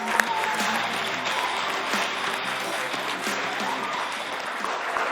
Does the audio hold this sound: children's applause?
yes